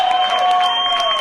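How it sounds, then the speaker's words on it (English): Wedding guests applaud the best man, loud sustained clapping with some crowd noise, a tonal hum running steadily underneath. "please keep the applause coming. A big round of applause for our best man, Ryan Gukwas."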